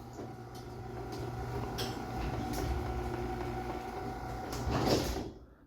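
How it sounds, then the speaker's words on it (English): A Chamberlain MyQ garage door closing, a steady close mechanical rumble and rattle that builds slightly, then a louder clunk near the end as it stops before quiet. "you wait till the garage door goes down to the desired stopping position"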